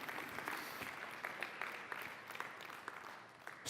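Church congregation applauding, a faint, distant spread of clapping that holds steadily throughout.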